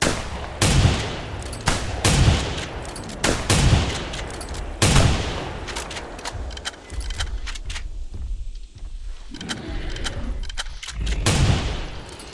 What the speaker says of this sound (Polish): Strzelam mu w dupę.